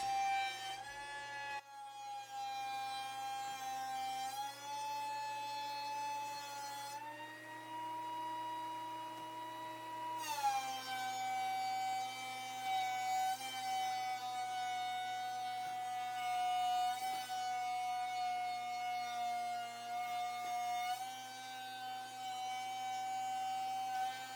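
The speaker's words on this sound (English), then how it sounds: "now I run the boards through the planer to get them nice and flat" A thickness planer flattens boards for a cheese cutting board, giving a continuous loud motor whine that dips and recovers in pitch as each board feeds through.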